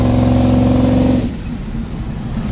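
A 1971 Chevy C10 pickup truck with its idle turned up slightly pulls away with a loud engine roar, which then drops off abruptly into a quieter rumble for the rest of the clip.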